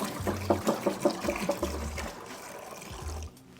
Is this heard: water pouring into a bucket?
yes